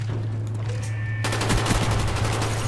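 Gunfire in Call of Duty Black Ops, a rapid burst of automatic shots starting abruptly partway through and hammering on loudly over a steady low hum.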